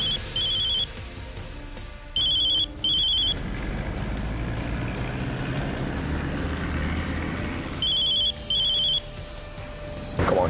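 A telephone rings in repeated bursts, several double rings spaced across the scene and going unanswered, loud over a steady rumble of passing vehicles and background noise.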